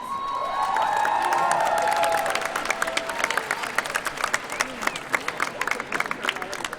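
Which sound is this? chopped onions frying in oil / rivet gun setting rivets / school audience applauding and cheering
school audience applauding and cheering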